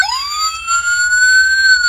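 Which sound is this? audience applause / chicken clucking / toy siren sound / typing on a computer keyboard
toy siren sound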